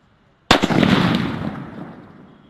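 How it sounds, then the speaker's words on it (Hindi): A King Kong bomb firecracker set off during Diwali, one sharp close blast followed by a roaring, crackling burst that fades slowly over about two seconds. "अब इस किंग कॉन्ग बॉम्ब को जला के देखते हैं कैसा चलता है।"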